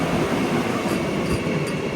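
Nagpur Vande Bharat express rushes past at a crossing station beside a halted train, a brief close rumble of rolling wheels and rail noise.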